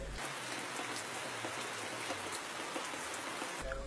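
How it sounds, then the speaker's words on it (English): Heavy downpour pouring onto a thatch roof over a classroom, a dense, steady hiss of rain close by with no voices. "the thatch roof only strains the heavy downpour that confines the pupils to a section of the classroom"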